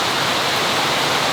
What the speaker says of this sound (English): Look at how hard it's raining.